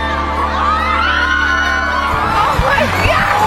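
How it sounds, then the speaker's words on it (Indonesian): A crowd of onlookers cheers and shouts excitedly as a couple performs, with continuous whoops and yells from many voices close by, the dense cheering staying loud throughout. "kerumunan orang yang menatapnya bersorak-sorai"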